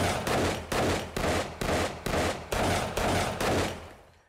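Desert Vulture pistol from the video game 7 Days to Die fires eight loud, booming shots at a steady, fairly slow pace, each with a long decaying tail, and no voices over them.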